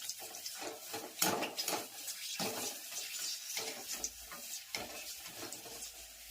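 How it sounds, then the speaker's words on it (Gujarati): Papad and kachri fryums fry in hot oil in a home kitchen, a faint bubbling sizzle with bursts of crackling as pieces are stirred and turned, no talk over it. "સરસ મજાની તળાઈ રહી છે ફરફર પાપડ અને કાચરી."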